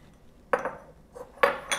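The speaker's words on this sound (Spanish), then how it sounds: "Entonces vamos a sacar acá nuestro bowl de la batidora" A stand mixer bowl is taken out in a kitchen, making a few sharp metallic clinks and knocks, two main hits about a second apart with lighter taps after, close and fairly quiet.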